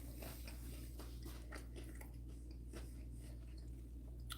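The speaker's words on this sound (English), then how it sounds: "The crunch on that bread was perfect." Biting and chewing a turkey and ham sandwich on crunchy bread with lettuce and slaw, repeated close crunchy bites and chewing over a steady low hum, with no talking.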